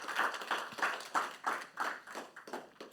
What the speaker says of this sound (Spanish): can give a clap offering to the Lord?